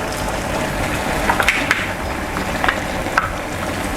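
Thai red curry paste stir-fried with young egg yolks (chicken egg clusters) and chilli in a pan, a steady close sizzle and crackle with a few light spatula scrapes and taps, no talking.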